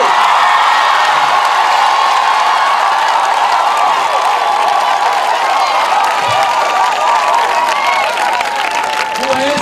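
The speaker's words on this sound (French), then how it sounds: "Acclamez le Seigneur Dieu." A large crowd at an outdoor evangelism campaign in Abobo Akeïkoi cheers and applauds continuously and loudly, with whoops and shouts layered over steady clapping.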